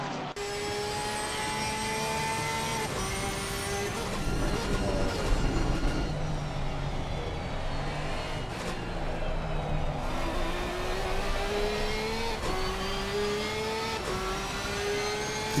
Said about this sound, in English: And so you now get to hear all the cars properly.